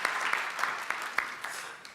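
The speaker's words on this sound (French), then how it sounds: "je crois qu'on peut l'applaudir pour sa présentation." A conference audience at an innovation and startup forum gives a soft, steady round of applause after a presentation, a dense wash of distant clapping with a few sharper individual claps standing out.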